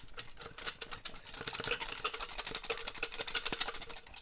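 Paper slips bearing usernames are mixed by hand for a prize draw, giving quick dry rustles and crinkles in an uneven rapid patter, close and fairly soft, with no talk.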